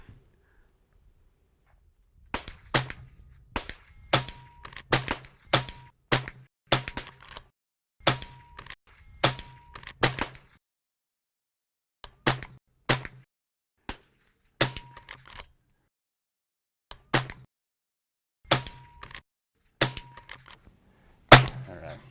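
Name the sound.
gunshots fired at shooting targets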